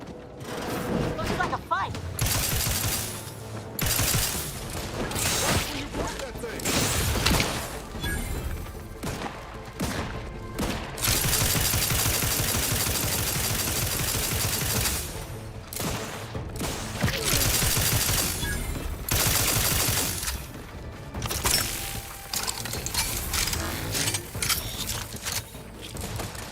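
Gunfire during a fight in The Outer Worlds 2, repeated bursts of shots and mechanical weapon clatter spread across a long stretch, loud and dense, mixed with game sounds and occasional speech.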